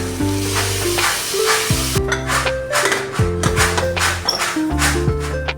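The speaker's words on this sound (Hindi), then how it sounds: "मैंने सब्जियां भी इधर काट ली और फिर इनको फ्राई किया" Vegetables sizzle and fry in hot oil on a home stove, a steady loud crackle broken by repeated metallic taps and stirring scrapes of a utensil against the pan.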